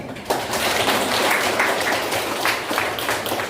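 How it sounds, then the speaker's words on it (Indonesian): An audience at a parenting seminar claps for the good women, a loud, even wash of applause from a roomful of people that begins sharply and continues without pause. "Tepuk tangan untuk wanita-wanita baik."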